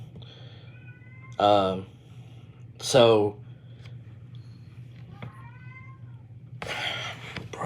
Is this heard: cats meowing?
yes